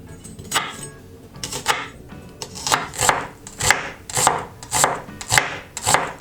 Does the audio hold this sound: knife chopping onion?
yes